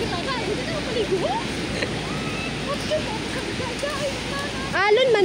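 Ocean waves on a beach in Boracay make a steady, loud surf roar throughout, with people's voices calling and talking faintly over the water.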